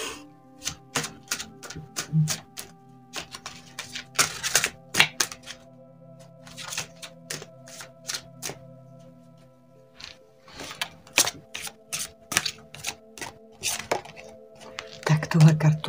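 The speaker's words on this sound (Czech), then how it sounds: "karty padají." Tarot cards falling and being shuffled by hand: a long series of sharp, irregular clicks and slaps in quick clusters, close and crisp over a low steady background tone.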